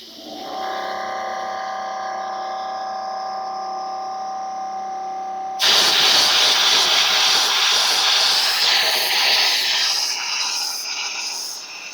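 An air compressor hums steadily with a tonal drone, then a loud, rushing hiss bursts in as air blows through a garden hose to clear it for winter, continuing strongly before tapering slightly.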